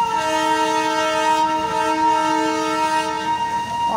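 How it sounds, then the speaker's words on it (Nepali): A Darjeeling toy train sounds a long, loud, steady horn at Ghoom rail station, a sustained tone held for the whole stretch with faint rail clatter underneath. "यो ट्रेन गए अर्को ट्रेन फेरि यहाँ रेडी छ"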